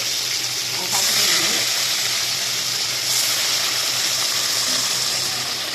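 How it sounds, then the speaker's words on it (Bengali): Hilsa-like fish fry lightly in a pan with a steady, close hiss of sizzling oil. The sizzle swells briefly when the fish are moved and continues without pause for several seconds. "হালকা করে মাছগুলোকে একটু নেড়ে ছেড়ে নেবো জাস্ট"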